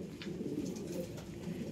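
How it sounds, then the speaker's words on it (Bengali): A continuous low cooing comes from Kohinoor pigeons in a home breeding loft, nearby and unbroken, with no one talking. "কোহিনূর অনেক শুনেছেন আপনার হয়তো নাম"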